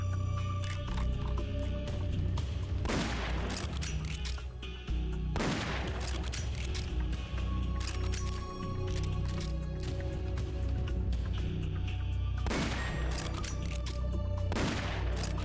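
Gunfire in Metal Gear Solid: Peace Walker, with several sharp broadband shots spaced a few seconds apart over a steady bed of game music and ambience.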